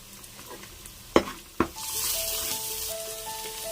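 Fish fries with green chillies in a pan for a chutney: two sharp knocks, then a steady, fairly close sizzle swells and holds, with no talking.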